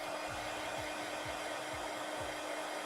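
Hair dryer blowing a steady, even whoosh close by to dry artwork done with Caran d'Ache Pablo colored pencils, continuous and alone without any talk.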